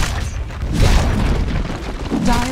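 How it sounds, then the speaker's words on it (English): A tower collapses in Dota 2 with a loud, rumbling boom that rolls on for a couple of seconds, dense and low, with a brief tonal ring near the end. "Dire's middle tower has fallen."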